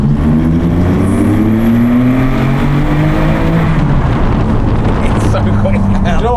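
TVR Tuscan sports car driving on a narrow English back road, its engine droning loud and constant with rising and falling pitch as it accelerates.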